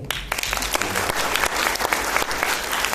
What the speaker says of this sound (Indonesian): nanti saya minta teman-teman tepuk tangan